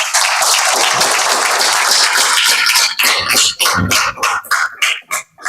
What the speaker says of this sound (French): je vous prie de faire un banc d'applaudissements pour vous-même